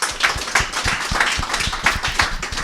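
Audience applause at a talk on digital comics platforms: a steady patter of hand claps from a modest crowd, continuous and fairly close, with a faint voice underneath.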